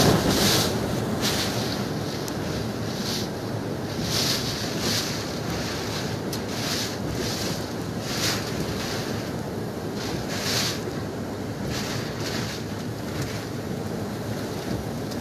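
Super Typhoon Rolly's strong wind roars continuously against the microphone in Albay, Philippines, with a steady wash of heavy rain, gusts surging in rhythmic bursts.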